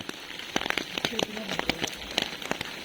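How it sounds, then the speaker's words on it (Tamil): Heavy rain from Cyclone Ditwah falls in Chennai, close patters and drips striking surfaces in an irregular crackling stream. "மழை விடவே இல்லை"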